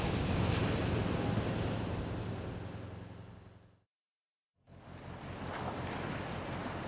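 Roaring sea waves and wind buffeting a fishing boat out on the Yellow Sea in stormy weather, loud broadband rush that briefly cuts out, then resumes at full strength.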